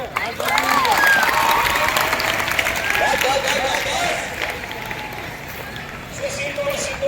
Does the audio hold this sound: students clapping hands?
yes